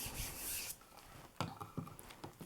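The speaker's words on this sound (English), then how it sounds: "brayer the back with your baren. I'm not sure what other term you could use. Rubbing." A baren rubs across the back of a paper print laid on an inked texture plate in a printmaking studio, giving a soft scraping sweep followed by a few short, faint rubbing strokes, close by with no talk.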